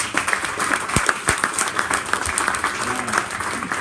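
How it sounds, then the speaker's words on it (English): An audience applauds after a presentation at a Mobile Monday Melbourne event, with dense, sustained clapping and a few sharp individual claps standing out. "That's a huge round of applause for you."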